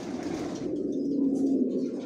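Racing pigeons in a loft cooing, a low, throaty rolling coo that swells and continues steadily, fairly close, with no voices.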